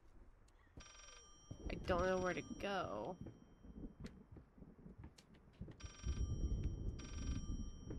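A telephone rings inside a house in the horror game Layers of Fear, several evenly spaced electronic ring bursts alongside a man's speech and ambient game noise.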